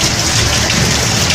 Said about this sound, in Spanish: Estamos viviendo una de las temporadas de lluvia más fuertes en la historia de Piura, con relámpagos, con truenos y con rayos incluidos.